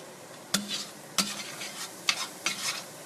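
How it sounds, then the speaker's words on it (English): Vegetables for beef chili stirred in a sizzling pan, with four sharp clacks of utensil against pan spaced through a steady frying hiss, close and clear, no talking. "Give that a quick stir. We shake our pan."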